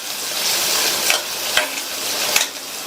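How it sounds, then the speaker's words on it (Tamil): Chopped onions with curry leaves and coriander leaves being sautéed in a pan, a steady sizzle with a few sharp scraping stirs of a spoon, close and fairly loud, with no talking. "இந்த வெங்காயம் ஓரளவு லைட்டாக கலர் மாறுற அளவுக்கு வதக்கிக்கணும்."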